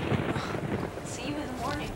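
Thunder rumbles in a dark bedroom during a storm, a dense, loud low roll that fills the whole stretch with rain-like noise mixed in.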